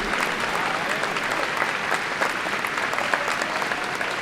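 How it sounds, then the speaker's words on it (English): Steady, dense applause from a large audience at a high school graduation ceremony, continuous clapping heard up close and evenly loud throughout, with no speech over it. "Please keep applauding for those who have served over 10 years at the Columbia High School faculty."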